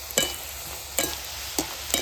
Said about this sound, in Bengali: এক মিনিটের ভিতর কিন্তু ভাজা হয়ে যাবে